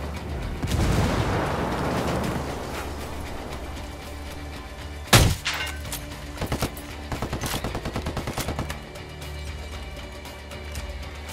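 Ghost Recon Wildlands gameplay: a sharp, loud flashbang grenade bang mid-scene, followed by bursts of automatic gunfire and a rapid string of shots, over a rumbling battle backdrop.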